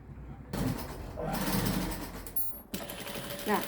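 A sewing machine stitches lining fabric in short whirring runs with brief stops, fairly quiet and close, with faint background sounds.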